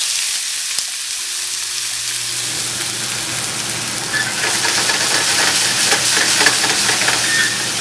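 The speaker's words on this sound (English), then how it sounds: "We're going to saute the onions until they are translucent" Onions sautéing in a pan for an Albanian bean stew: a steady sizzle and hiss that swells louder partway through, with light stirring, close and without talk.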